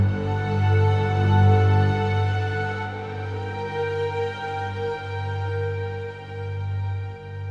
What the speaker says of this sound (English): But for the strings, I'm using Tundra again for this little motif.